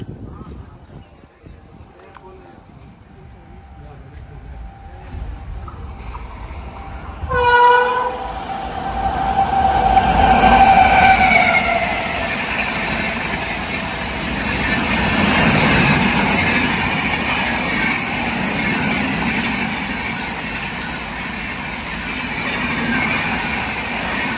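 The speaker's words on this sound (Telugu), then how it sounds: "చూడండి ఇంకో ట్రైన్ అయితే వస్తుంది ఎక్స్ప్రెస్" An express train hauled by a WAP-7 electric locomotive approaches and passes, sounding a loud, sustained horn that steps through several tones around the middle of the stretch, followed by a long, rushing roar of wagons rolling past, with voices underneath.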